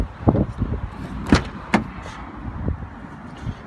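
The passenger door of a BMW E46 opens with a few sharp mechanical clunks and latch clicks, followed by softer handling noises in a quiet car interior.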